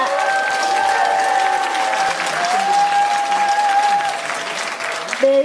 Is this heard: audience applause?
yes